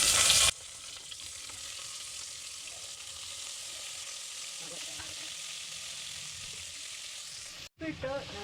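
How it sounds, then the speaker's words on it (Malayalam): Capsicum, green chilli, beans and tomato sauté in a pan with a low, soft sizzle and faint stirring clinks. A louder burst of noise comes at the very start, and a brief sharper clatter comes near the end. "അരിഞ്ഞു വെച്ചേക്കുന്ന ക്യാപ്സിക്കം, പച്ചമുളക്, ബീൻസ്, തക്കാളി എല്ലാം കൂടെ നമുക്കൊന്ന് ഇട്ട് വഴറ്റാം."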